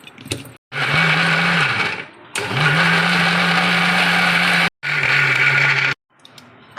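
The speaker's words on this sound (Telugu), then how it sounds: "ఇప్పుడు మనం దీన్ని మిక్సీ పట్టేసుకుందామండి" Mixer grinder blending ice apple (nungu) fruit into juice, a loud close whir in three bursts separated by brief pauses, the motor note dipping slightly as each run starts.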